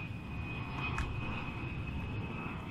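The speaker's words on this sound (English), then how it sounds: "Oh, that airplane was loud." An airplane flying overhead in the video game Farming Simulator 17, a steady droning engine roar with a faint high whine, continuous and moderately distant.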